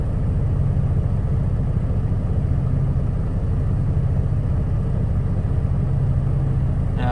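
A 2016 Dodge 392 SRT Scat Pack rumbles steadily on a test drive, a loud, low, even engine drone with no clear revs or shifts, heard alone.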